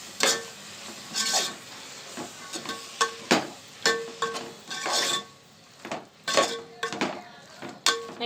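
A spoon stirs chili powder into masala frying in a pan for egg biryani, giving repeated scraping strokes and soft clinks against the metal over a steady low sizzle, close up and moderately loud.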